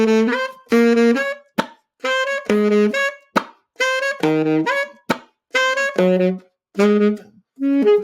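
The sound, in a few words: beatbox saxophone mixing bass notes, melody and percussion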